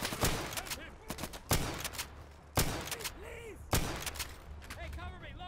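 Four loud, evenly spaced rifle shots ring out in the tactical shooter Insurgency, each with a sharp crack and a quick echoing tail, while players talk between them.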